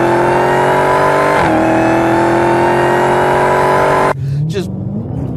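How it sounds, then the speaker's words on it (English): A supercharged car engine, a 2015 Dodge Challenger SRT Hellcat or Chevrolet Camaro ZL1, runs with a steady high supercharger whine and throaty exhaust, then cuts sharply near the end to a lower idle rumble. "I mean, listen to the exhaust. Listen to the whine from that."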